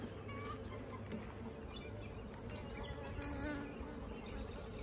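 Honeybees humming steadily in an opened single brood chamber hive a week after a split, a dense continuous buzz with faint passing bee whines close by, fairly quiet overall.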